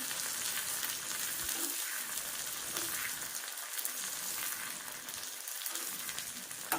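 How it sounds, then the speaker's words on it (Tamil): Curry leaves fry in hot oil for a tempering, a close, continuous crackling sizzle with a bright, spattering texture that holds steady for several seconds without any talk. "அடுத்தது கருவேப்பிலை, அப்படியே தாளிச்சுப்போம்."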